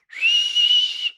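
A person imitates a dog whistle with a single steady, high, piercing whistle lasting about a second, close and alone with no talking.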